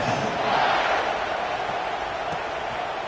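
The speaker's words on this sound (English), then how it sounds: "this crowd is buzzing after that last score" A packed stadium crowd at an LSU college football game buzzes steadily after a touchdown, a dense, continuous roar of many voices with no single sound standing out.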